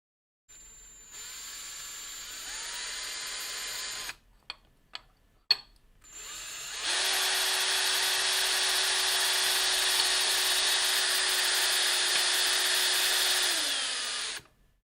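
Power drill spinning lock nuts down threaded rods while assembling an LDO Voron V0.1 3D printer: a steady whine runs for a few seconds, short bursts follow, then a long sustained run at a constant pitch before it winds down.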